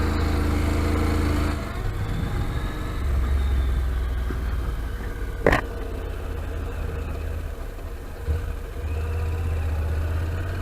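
Honda NC700X motorcycle rolling through a neighbourhood in town, its engine humming low and steady near the mic, dropping back to an idle and picking up again, with one sharp short burst midway.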